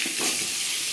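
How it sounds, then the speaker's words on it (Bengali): Potato pieces frying in hot oil in a pan, a steady bright sizzle with soft bubbling and a light stir, close and continuous with no voices. "এরপর আমি পটলগুলো তুলে নিয়ে আলুগুলো ভেজে নেব"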